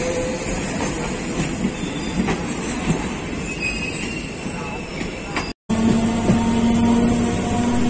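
The Asansol-Varanasi MEMU passenger train runs on rails near Sitarampur in India, heading toward Dhanbad. It gives a continuous loud rumble with wheel clatter and faint squeals, with one momentary dropout partway through.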